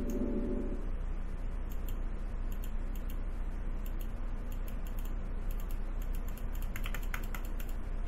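Fast mouse and key clicking during computer gameplay, a steady stream of crisp ticks that thickens into quick bursts toward the end, close and fairly quiet over low room hum.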